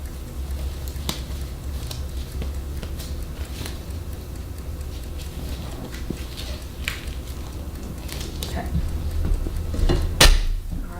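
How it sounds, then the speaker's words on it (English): Cookie dough for pecan diamond bars is pressed and scraped into the bottom of a baking pan, giving soft scuffs and occasional light metallic clinks against steady kitchen background, with a sharper clatter near the end. "I'm going to put the dough that we just mixed up, and I'm going to press it into the bottom of the pan"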